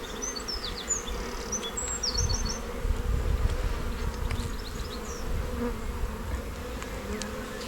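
Honeybees hum steadily and close at a split box hive during an inspection, a dense continuous buzz with faint bird chirps above it and no talking.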